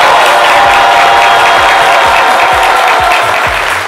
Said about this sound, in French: les étudiants du CBCG de Cocody qui renouvellent ici encore une fois leurs applaudissements